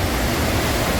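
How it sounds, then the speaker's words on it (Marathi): Bhedaghat waterfall in India roaring steadily, a loud, dense broadband rush of falling water with no voices. "आमच्या भारतातील नायगारा धबधबा"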